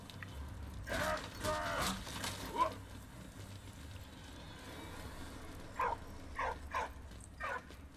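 A dog barks and yips in short bursts in the Soldats Inconnus video game, with a few sharper yelps later, while a voice talks over the first part.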